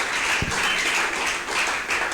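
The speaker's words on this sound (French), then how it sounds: "Applaudis fortement pour Jésus." A church congregation at a Sunday worship service applauds, a dense, continuous wash of clapping with no spoken words.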